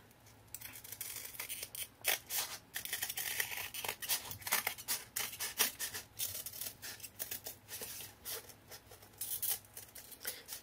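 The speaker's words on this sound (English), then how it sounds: "Let's go ahead and just cut the ornament out." Scissors snip repeatedly through fabric, cutting out an ornament, a steady series of close, crisp cutting sounds with short gaps, quiet and without talk.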